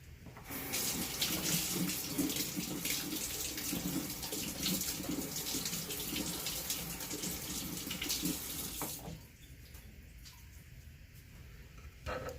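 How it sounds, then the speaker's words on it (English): Preserved lemons, soft-peeled after curing in salt and sugar, are rinsed under a running kitchen tap, a steady close splashing stream for about nine seconds before it shuts off, leaving quieter room sound. "I'm going to rinse them off really fast"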